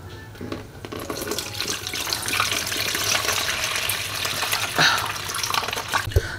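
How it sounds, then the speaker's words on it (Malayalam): Crushed ginger in water is strained out of a mixer jar for homemade beer, a continuous close splashing, trickling pour with brief louder splashes and no voices. "അപ്പോൾ നമുക്കത് നല്ലതായിട്ട് അരിച്ചെടുക്കണം"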